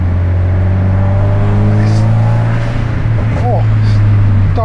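A turbocharged Subaru Impreza WRX STI engine drones steadily up close with a low rumble, shifting in pitch near the end with a brief hiss and flutter of air released by the dump valve.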